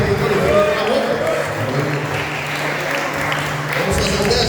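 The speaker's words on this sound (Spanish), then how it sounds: "Aplauda o Senhor, Aplauda al Señor" A congregation claps during a church service at a Bolivian church anniversary, a loud, dense burst of applause that runs under someone speaking through the sound system.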